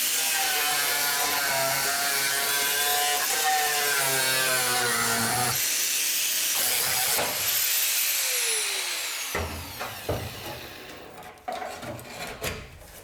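Cutting the thin but hard sheet metal of a Peugeot 106 during an engine swap, a loud continuous whining power-tool screech with shifting pitch that cuts off, followed by scattered clanks and handling noises.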